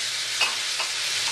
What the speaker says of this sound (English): I got my pan here pretty hot. I am going to add my shrimp and do these relatively quick.